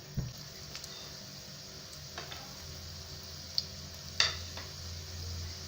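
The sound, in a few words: crushed garlic sizzling in oil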